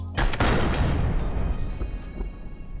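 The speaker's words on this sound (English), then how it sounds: "Here is the gunfire." A loud, booming burst of video game gunfire heard through SteelSeries Arctis Pro Wireless gaming headphones erupts almost immediately, then rumbles and fades slowly over a couple of seconds, with no voices.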